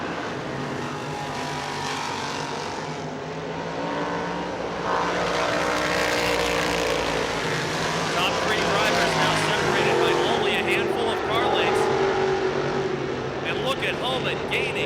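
Race cars circle Pennsylvania Motor Speedway with a continuous roar of engines rising and falling as they pass, heard under an announcer's steady commentary.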